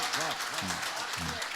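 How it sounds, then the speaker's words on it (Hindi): An audience at an Urdu poetry mushaira applauds steadily while someone speaks over the clapping, his voice sitting in front of the dense patter of hands. "तालियां बजनी चाहिए इस बात के ऊपर"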